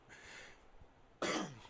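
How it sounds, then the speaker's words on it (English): A single harsh cough bursts out close and loud after a quieter breathy throat sound, then fades quickly into near silence. "we're gonna have to just deal with that cough and work around it"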